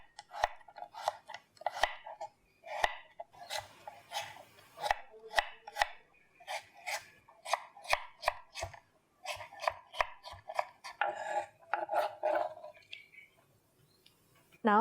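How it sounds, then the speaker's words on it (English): A knife slices steadily through firm chayote on a cutting board, crisp repeated cuts in quick rhythm, close and clear with no talking. "Now let's slice it."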